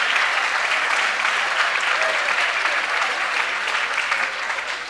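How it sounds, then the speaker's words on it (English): An audience applauds at a polo hall of fame induction ceremony, with dense, steady clapping filling the hall and tapering slightly toward the end. "And I want a big round of applause thanking Melinda and everyone who does that."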